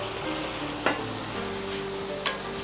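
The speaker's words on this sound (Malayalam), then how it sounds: "സവാള പാകത്തിന് മൂത്ത് കഴിഞ്ഞു." Sliced onions fry in hot oil for a Kerala-style chicken dish, giving a steady close sizzle with two brief scraping stirs.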